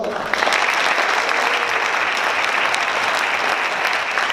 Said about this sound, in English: So let's give them one more round of applause.